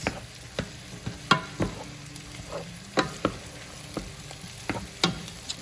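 Potatoes fry in a pot for potato soup, steady sizzle underneath while a spoon repeatedly scrapes and chops at them, producing sharp irregular knocks about once a second, with no talking.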